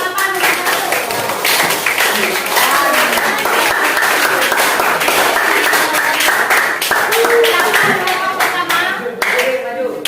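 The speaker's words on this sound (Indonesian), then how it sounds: "Ayo tepuk tangan kelompok 8." A classroom group of students claps for group 8, giving dense, continuous hand-clapping that holds steady for about ten seconds, with faint voices mixed in beneath.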